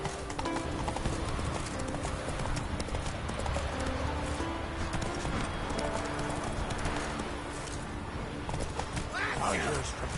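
Roach, the horse in The Witcher 3 video game, gallops with steady clip-clop hoofbeats throughout, a brief whinny late on, under continuous game music and ambience, with a voice speaking over it.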